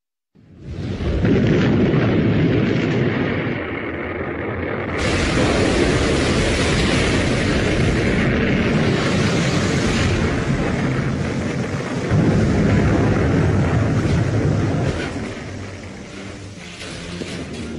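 A Titan rocket roars on launch in a long, heavy rumbling blast that holds loud and steady for many seconds, rising to a brighter roar midway, then fades slightly at the end.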